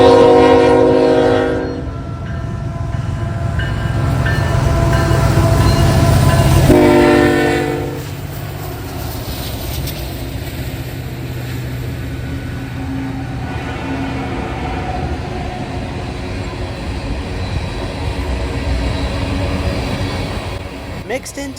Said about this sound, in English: Traveling up the Sandusky District today was a rerouted NS-73Z loaded coal train